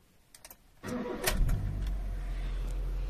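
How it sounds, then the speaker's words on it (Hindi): A car with a throttle fault starts up: a few faint clicks, a cranking burst, then the engine catches and settles into a steady, loud idle. "गाड़ी करते हैं स्टार्ट"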